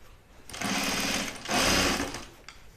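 A home sewing machine stitches a five-eighths seam on jeans in two close, loud bursts of rapid whirring, briefly pausing between them.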